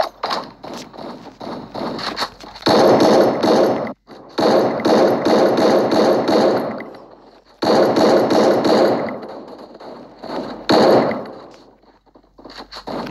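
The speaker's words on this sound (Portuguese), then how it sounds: "Ah, era atira-granada, pessoal." Grenade launcher shots and grenade explosions in the video game Free Fire during a team deathmatch, loud repeated bursts of popping blasts and crackling in several long clusters separated by short gaps, with no speech.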